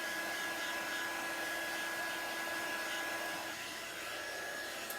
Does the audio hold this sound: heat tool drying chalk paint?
yes